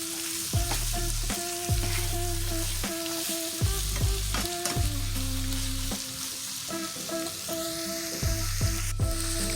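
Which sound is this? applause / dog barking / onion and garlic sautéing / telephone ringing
onion and garlic sautéing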